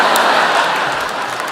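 Audience applause fills an awards ceremony hall at the 2012 Logies, a dense, steady wash of clapping that stays loud and fairly even throughout.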